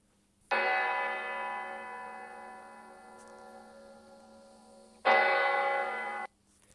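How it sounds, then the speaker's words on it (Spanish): A church bell rings with two deep, resonant strikes: the first hum sustains for several seconds, then a second strike follows and cuts off abruptly, clear and alone over a quiet background. "cuando suena la campana de la iglesia, por ejemplo, es un sonido grave"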